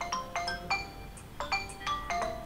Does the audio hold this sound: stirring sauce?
no